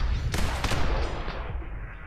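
Gunfire from the top-down action shooter The Hong Kong Massacre: a few sharp, close shots stand out at the start over a dense, continuous wash of game noise and rumble that fades slightly toward the end.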